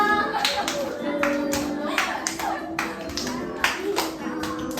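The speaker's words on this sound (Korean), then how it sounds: "박수 좀 쳐주세요." Children at an elementary-school church worship service clap in rhythm along with a praise song, steady hand claps over singing voices and music.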